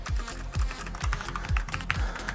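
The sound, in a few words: typing on Creative Vanguard K08 mechanical keyboard, Omron switches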